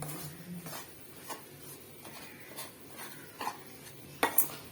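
A sweet for Krishna Jayanthi is stirred in a pan, with several scraping strokes and light metallic clinks of the spoon against the vessel. The sound is close but quiet and ends with a couple of sharper knocks.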